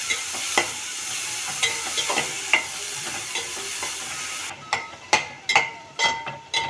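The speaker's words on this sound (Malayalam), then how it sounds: "നന്നായിട്ട് വഴറ്റിയിട്ട് ഉടച്ചെടുക്കാം" Broccoli stir-fried in an oiled pan: a continuous sizzle with repeated spatula scrapes and taps, growing sharper and more clattery near the end.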